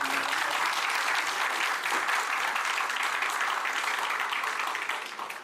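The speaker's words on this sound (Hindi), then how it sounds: "उन सबका मैं जोरदार ताली से अभिनंदन करता हूँ, स्वागत करता हूँ" Loud, sustained applause from an audience at a grand ceremony honoring teachers and graduating doctors, dense steady clapping filling the whole stretch and thinning slightly at the very end.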